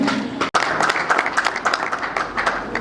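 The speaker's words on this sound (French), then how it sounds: "On va dire bravo et si vous pouvez l'applaudir." Audience applause at a tenth-anniversary celebration for the ACAJ NGO: steady, dense clapping from a sizable crowd, sustained throughout with a brief dip near the start.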